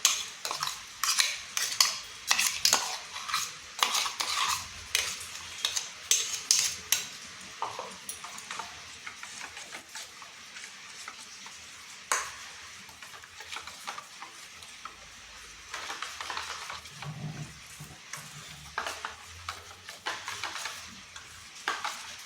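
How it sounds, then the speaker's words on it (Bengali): Potato paste being stirred into dosa batter made with raw potato and semolina, a steady run of close, wet scraping and clinking strokes against a bowl, repeated in uneven bursts with brief pauses. "এই ব্যাটারের সাথে মিশিয়ে নিচ্ছি"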